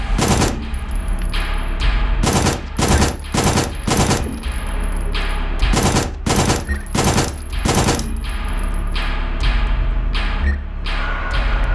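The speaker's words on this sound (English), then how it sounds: "Just keep shooting. And, of course, reloading as necessary." Rapid bursts of gunfire from the video game Signalis, loud sharp shots fired in uneven clusters across the whole stretch, with a faint high electronic tone behind them and no talking.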